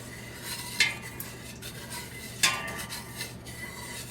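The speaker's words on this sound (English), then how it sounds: "So we're gonna stir this up" A spoon stirs sugar into vinegar for pickled onions, with light scraping and two sharper clinks against the container over a soft background.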